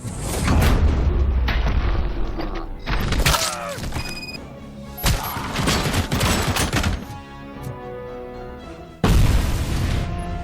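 Door breach explosion in the video game Robocop Rogue City: a loud blast with shattering debris, followed by bursts of gunfire and further booms, then a second heavy impact near the end.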